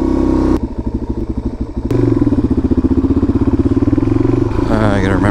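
Suzuki DRZ400 motorcycle ridden solo, its single-cylinder engine pulsing loud and close, dipping briefly, then revving back up to a steady rhythmic throb with wind buffeting near the end.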